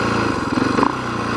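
A motorcycle engine held at steady revs at low speed during a rider safety class course, loud and close with a continuous rough drone and a slight surge midway, no talking.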